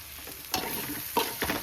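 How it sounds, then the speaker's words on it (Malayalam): Ingredients for a fish pickle sizzle in a hot pan while being stirred, with a few sharp scraping strokes over a continuous close frying hiss. "അടുക്കി പിടിക്കാതിരിക്കാൻ നന്നായിട്ട് ഇളക്കി കൊടുക്കണം."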